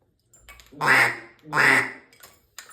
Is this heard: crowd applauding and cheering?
no